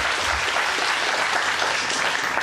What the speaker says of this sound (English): let's give him a round of applause as he comes on stage.